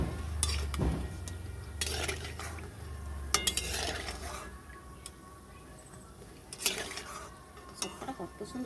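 Mango fritters finish in hot oil with a faint, low bubbling. Scattered metallic clinks and scrapes come as the fried fritters are lifted out with a utensil and set aside.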